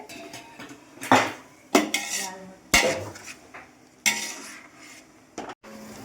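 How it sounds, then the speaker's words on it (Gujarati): Wheat khichdo with tomatoes is stirred in a pot, a spoon scraping and clanking against the metal in four or five loud, separate bursts with quieter rattles in between. "હવે આને મિક્સ કરતું જવાનું છે અને હલાવતું જવાનું છે."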